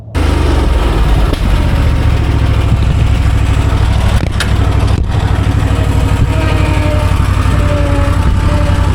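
A well-worn Exmark lawn mower with 2,500 hours on it cuts through thick grass, its engine droning loud, close and steady throughout with no letup.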